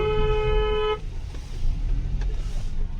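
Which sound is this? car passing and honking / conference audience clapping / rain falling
car passing and honking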